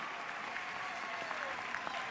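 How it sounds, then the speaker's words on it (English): Steady applause from a crowd at a graduation ceremony, fairly soft and distant, continuing evenly throughout with a faint voice underneath. "Give them a round of applause, please."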